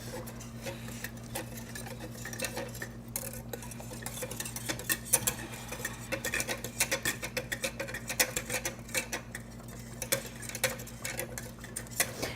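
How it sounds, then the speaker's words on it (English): A spoon stirring a flour-thickened sauce in a pot while cooking lasagne, with steady soft scraping and light clinks against the pot, repeated through the clip at close range under a low kitchen hum. "So how about you give this a little stir?"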